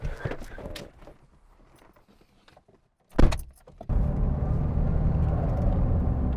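A Toyota Yaris T-Sport Turbo engine fires up after a quiet pause with a sharp clunk, then runs steadily and loudly close by.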